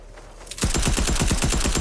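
Rapid automatic gunfire in the video game Desert Zone Wars, played on PS5, starts abruptly and continues as a fast, evenly spaced stream of loud, close shots until the end.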